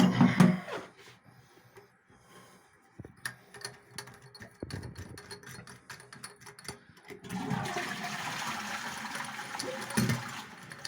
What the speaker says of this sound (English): So that's you emptying the cistern.